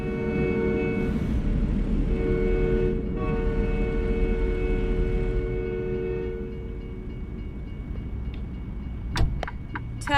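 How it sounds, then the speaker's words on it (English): Trains rumble past in American Truck Simulator, a loud steady rolling drone with a long sustained horn chord through the first half, fading into lighter clatter and a few sharp clicks near the end; no talking. "Love the sound of them trains."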